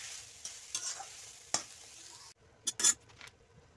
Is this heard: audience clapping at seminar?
no